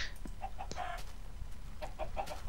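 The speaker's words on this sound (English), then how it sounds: "There's a chicken dead under the oven." A Minecraft chicken clucks in short repeated bursts, a few soft clucks early and a quicker cluster near the end, set against quiet game background noise with no talk.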